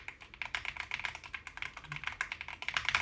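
Rapid, close-up typing on a creamy-sounding Bluetooth keyboard that costs under $50, a steady stream of soft, rounded keystrokes with no gaps or voices.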